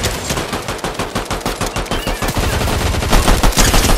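Rapid bursts of automatic gunfire in a PlayStation 4 shooter game, loud and close, with steady rhythmic shots running continuously and growing denser toward the end.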